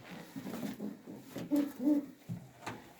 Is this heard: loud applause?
no